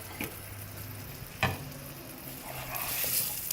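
Chicken kofta cooking in masala over a medium-low flame gives a soft, steady sizzle with faint stirring scrapes and a brief clatter midway, with no voices.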